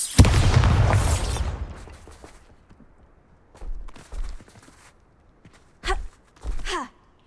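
A Bombarda blasting spell in Hogwarts Legacy bursts at the start as a loud, booming explosion that decays over a second or so, followed by several softer thuds and footstep-like sounds.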